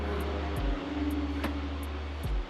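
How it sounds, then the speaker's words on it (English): A big airplane passing overhead during an outdoor yoga session, a steady low engine drone with layered hum and a few faint ticks, no talk. "there's a big airplane flying over now"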